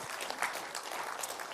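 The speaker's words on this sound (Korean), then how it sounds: "박수 한번 또 부탁드립니다." Audience applause at a morning CEO lecture on the economic outlook, a steady wash of many hands clapping together for under two seconds, moderately loud with no voices.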